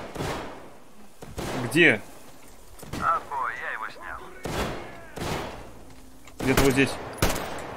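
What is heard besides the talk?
enemy sniper gunfire in Metro Exodus video game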